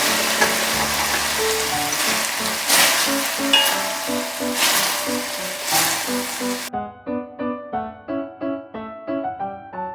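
Pre-fried dried icefish sheets are stir-fried in a boiling seasoning sauce, giving a close, crackling sizzle with stirring. Plucked musical notes take over for the final few seconds.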